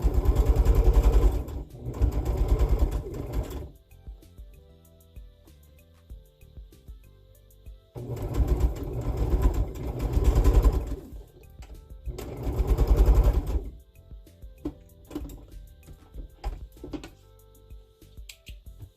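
A sewing machine stitches quilt fabric in three loud bursts of steady mechanical whirring, each lasting a few seconds, separated by quieter pauses with faint clicks and handling sounds.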